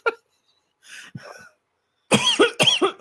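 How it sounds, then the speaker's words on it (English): Several harsh, close coughs from one person: a short one at the start, a softer cluster in the middle, then a loud burst of hacking coughs near the end, with quiet gaps between. "I don't know why I'm coughing today"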